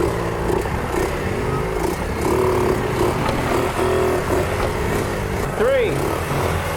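A mini Harley bagger motorcycle engine drones steadily throughout with a few short revs, heard mid-distance under an outdoor din while wheelies are ridden.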